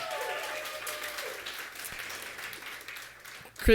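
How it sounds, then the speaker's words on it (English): Audience applause for two work study students at a graduate comics reading, a broad steady patter of clapping that fades toward the end, with a sharp louder burst closing it. "Give them a round of applause"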